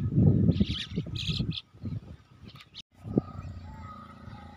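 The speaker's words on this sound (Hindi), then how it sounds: "पक्षियों की आवाज़" Several birds chirp and tweet in short bursts outdoors beside farm fields in India, with bird calls scattered over a low background rumble and brief quiet gaps.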